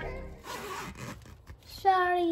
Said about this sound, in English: Keep zipping it up.